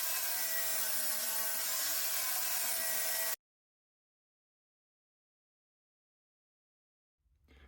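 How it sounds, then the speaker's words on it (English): Cleaning a Land Rover Defender axle housing makes a steady abrasive, saw-like scraping for about three seconds, followed by silence and then a faint low rumble starting near the end. "and then I'm going to clean this housing."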